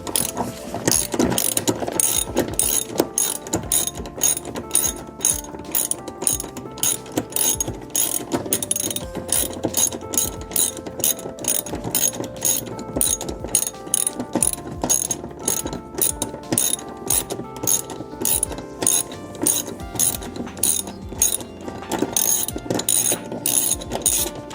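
A hand ratchet turns a 14 mm seat bolt in a Lexus LX, clicking close and loud in long, continuous rapid bursts.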